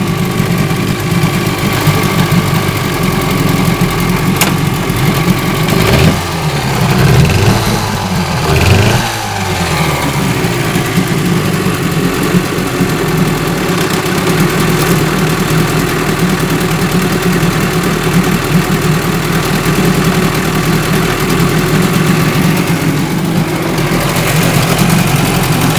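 A Johnson 10 HP outboard motor idles steadily after an ignition module swap, a continuous close, even running drone with a brief wavering change partway through.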